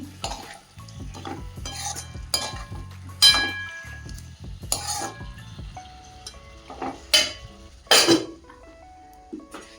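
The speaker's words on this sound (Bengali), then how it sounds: "আজকে বানাচ্ছি ডিমের ঝোল মশলা মশলা দিয়ে সব কষাচ্ছি" Spices for an egg curry stirred in a pan, irregular metal spoon clinks and scrapes over a low sizzle, some strikes louder and ringing, close-up with no talk.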